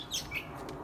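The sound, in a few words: birds chirping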